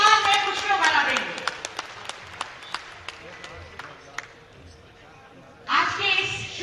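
Audience applause at a government event marking a state government's first year, a short burst of clapping that thins to scattered claps, then swells again briefly, with speech over a loudspeaker.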